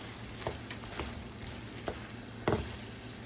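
Onion browning in a pan gives a steady, soft sizzle with a few brief clinks of a utensil, the loudest near the end, and no voices.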